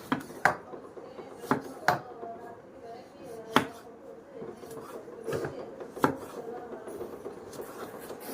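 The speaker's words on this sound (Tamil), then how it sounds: "எவ்வளோ சின்னதாக நறுக்க முடியுமோ அவ்வளோ சின்னதாக நறுக்கிக்கோங்க." A knife chops egg chaat ingredients into small pieces on a board in sharp, irregular strokes, some hard and some lighter, with soft scraping between the cuts.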